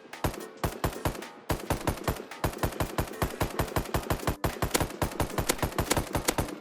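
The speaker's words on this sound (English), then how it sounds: "Why does it sound like an air rifle?" A new gun in the Rust video game fires in rapid, evenly paced bursts of sharp, dry cracks that recall an air rifle, loud and up close, with brief pauses between strings of shots.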